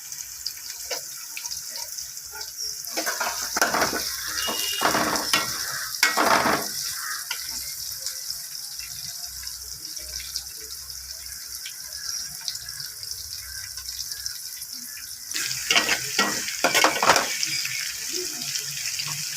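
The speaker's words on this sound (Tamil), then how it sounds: "வெங்காயம் நல்லா கொஞ்சம் வதங்கட்டும். நல்லா ஃப்ரை ஆகணும் வெங்காயம்" Onions frying in a pan for Tamil-style fish curry give a steady close sizzle, broken by bursts of stirring and scraping.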